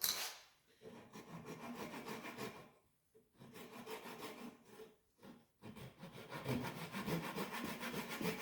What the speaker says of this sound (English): So I'm just doing it with a little pole saw, and I hold the caliper up there to the length I want.